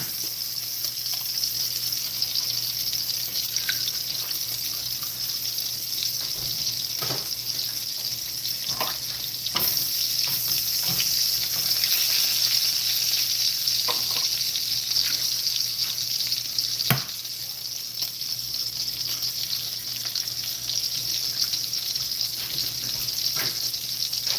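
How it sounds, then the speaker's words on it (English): An egg fries in a pan beside burger patties, giving a steady, close, continuous sizzle and crackle throughout with faint background hiss and no talking. "I got to fry my egg."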